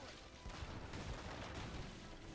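A faint, continuous crackle of massed musket or gunfire rattles through a battle in Age of Empires III Definitive Edition, dense and distant without clear single shots.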